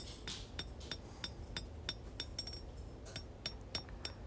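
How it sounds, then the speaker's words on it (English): A hammer strikes steel on an anvil while a drop point hunting knife is hand forged, sharp ringing metallic blows repeating in a quick, fairly even rhythm, about three per second, close and clear. "pinching the steel between the hammer and the anvil"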